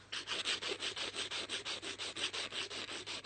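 A file rasps back and forth across an acrylic nail in quick, even strokes, about six per second, close and clear with no talking.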